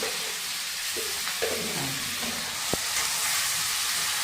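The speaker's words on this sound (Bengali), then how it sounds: "সেই তেলটাতেই আমি পেঁয়াজ বাটাটা ফ্রাই করে নিচ্ছি।" Onion paste frying in the oil left over from frying fish, a dense steady sizzle filling the whole clip with a few faint stirring scrapes and one sharp tap, close and loud.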